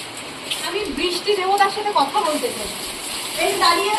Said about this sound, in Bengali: এ দেখুন বৃষ্টি দেখুন না আমাদের এখানে আর বৃষ্টি বন্ধ হবে না